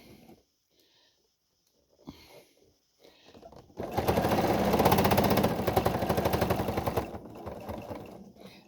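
A sewing machine stitching cotton face mask fabric in zigzag mode runs in a steady rapid whir for a few seconds, preceded and followed by quieter handling sounds, close to the microphone.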